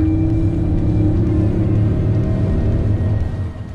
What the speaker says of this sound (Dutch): En dan die 5-cilinder.